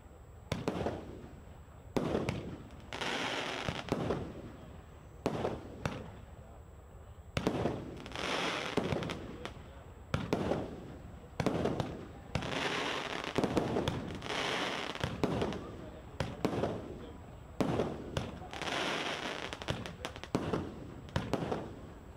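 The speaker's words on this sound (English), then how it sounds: "So there was also some fireworks in the evening after the excavator being removed from the ground." Evening fireworks burst in quick clusters of loud bangs and crackles, separated by short lulls, and they repeat steadily at a moderate distance.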